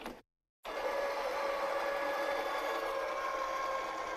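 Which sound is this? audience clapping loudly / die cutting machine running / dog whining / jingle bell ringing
die cutting machine running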